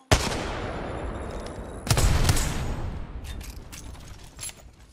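Gunfire in a battle royale video game, rapid bursts of shots with a louder volley near the middle, then trailing scattered pops beneath a constant rush of ambient noise.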